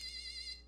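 Short electronic buzzer tone from a small demonstration circuit, a single steady high-pitched beep held for about half a second before trailing off, heard alone.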